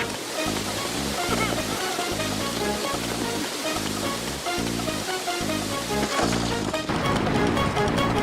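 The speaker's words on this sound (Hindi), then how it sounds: "झरने का पानी आ गया।" Water rushes from a cartoon waterfall in a loud, continuous broadband roar, with rhythmic low thumping music pulsing underneath throughout.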